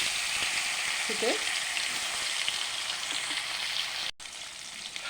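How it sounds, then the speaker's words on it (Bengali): Fish pieces fry in oil in a wok, giving a loud, continuous sizzle close by, with a brief cut near the end and no talk over it. "হালকা করে ভেজে নেব একটু মাছগুলো"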